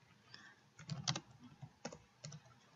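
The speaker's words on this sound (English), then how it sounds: "I will type in another keyword" Keystrokes on a computer keyboard as a search keyword is entered, a few quick bursts of clicking separated by short pauses, close and fairly quiet, with no talking.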